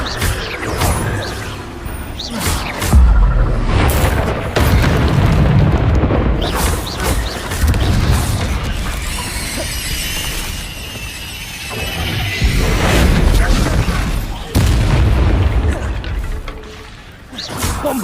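Repeated Bombarda and Confringo spell blasts in the Hogwarts Legacy video game, with booming explosions, crashes and whooshes layered densely over a continuous loud soundscape, punctuated by sharp transient impacts throughout.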